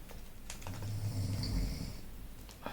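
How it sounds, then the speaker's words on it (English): A sleeping roommate snores nearby, with one long, low, rumbling breath through the middle and faint clicks and rustles around it. "One of our roommate is sleeping and he's snoring."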